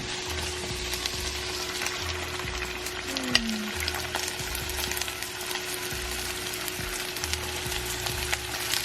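Tomato goes into a frying pan of onion and green pepper, giving a continuous close sizzle with occasional utensil taps and a steady background hum.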